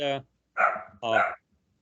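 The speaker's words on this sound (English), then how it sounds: "My wiener dog, who thinks she's a Rottweiler, is challenging a kid riding a bike down the street" A small dachshund barks at a kid riding a bike down the street: three sharp, close barks in quick succession, loud and clear with nothing else heard.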